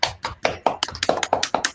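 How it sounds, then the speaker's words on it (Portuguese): An audience at an academic public-theology lecture in Brazil gives applause, with distinct, fairly close claps falling in a quick, uneven rhythm for under two seconds. "Vamos agradecer com uma salva de palmas."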